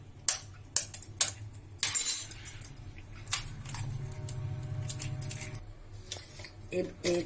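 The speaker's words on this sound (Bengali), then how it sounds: "আমি চারটে ডিম এক এক করে ফাটিয়ে নিচ্ছি" Four eggs cracked one at a time into a bowl for Bengali steamed egg curry (dim bhapa), giving sharp separate knocks and clinks of shell against the rim, with a low background hum in a home kitchen.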